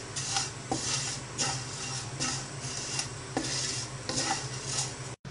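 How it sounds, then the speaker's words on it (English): Vermicelli roasting in a pan while a spoon stirs it in repeated scraping strokes about every half second, over a soft, continuous sizzle nearby. "To this, add 1 cup of vermicelli and just roast it. Just roast it till it turns golden brown."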